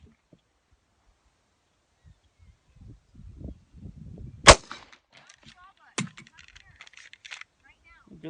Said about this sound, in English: I'm going to extend the gun out, take a shot